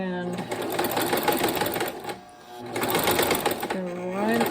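A sewing machine back-stitching across fabric to secure a ribbon with a small printed verse beneath it, loud rapid needle chatter in two bursts with a short pause between, while a person talks over it.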